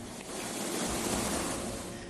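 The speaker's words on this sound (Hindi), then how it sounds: "गाड़ियां चल रही हैं तो लहरें कई फीट तक उठ रही हैं।" Water surging and splashing as vehicles drive through a deeply flooded street in Ambedkar Nagar, south Delhi, after overnight rain; a steady, loud, broadband wash of churning water with no speech.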